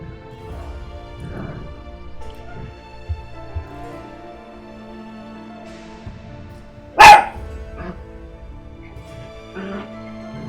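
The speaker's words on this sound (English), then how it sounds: "The dogs are fighting over a toy. And the baby dog is just randomly barking at stuff." A single sharp dog bark rings out near the middle, with a couple of faint yips and scuffles around it over quiet background music, as dogs fight over a toy indoors.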